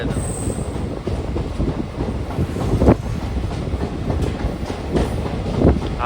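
The Sabari Express runs on the main line through a station at about 40–50 km/h. A loud, continuous roar of wheels and carriages carries rhythmic clacks and the odd squeal, with no voices.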